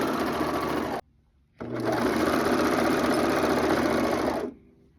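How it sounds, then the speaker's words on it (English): A serger sewing machine stitching and trimming fabric for relaxation pants runs loud and close with a steady high-speed whir, stops briefly, then starts again for a long continuous burst before cutting off. "Now we will serge."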